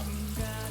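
Water is added to a pan of onion on a fairly high flame, a short pour and splash breaking into a steady sizzle, with no talking.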